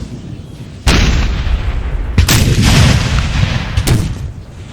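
Artillery and musket fire from a Napoleonic battle in Napoleon: Total War, with several loud booming blasts and crackling volleys that roll on between them, close and heavy, with no talk.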